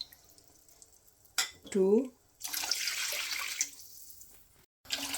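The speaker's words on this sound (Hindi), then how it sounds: "अब हम इसमें यखनी डाल देते हैं। 3 कप चावल है तो 3 कप ही यखनी डाल देंगे।" Yakhni stock pours into a pot of rice for Afghani Kabuli Pulao, a splashing, trickling stream lasting a couple of seconds. A voice counts aloud just before it, and the pour is followed by a short pause and a small clink.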